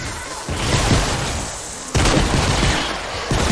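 Video game gunfire in Fortnite Save the World, a dense, loud fusillade of rapid shots with bursts restarting after brief gaps, no voices over it.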